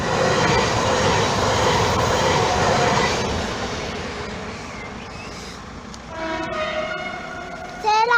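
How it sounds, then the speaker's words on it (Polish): A train rumbles past nearby at a railway crossing, loud clatter fading to a distant roll, then rising horn or squealing tones sound toward the end. "No jedzie pociąg."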